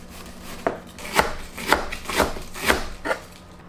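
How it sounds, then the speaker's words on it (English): A sharp knife slices cabbage finely for coleslaw on a board, with six crisp, evenly spaced cuts close up and nothing else heard. "If you are using the knife has to be very sharp and you have to slice it finely."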